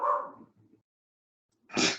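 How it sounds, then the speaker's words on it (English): A dog barks twice, a single sharp bark at the start and another after a short silence, fairly close and alone, with no talking. "My dog barks."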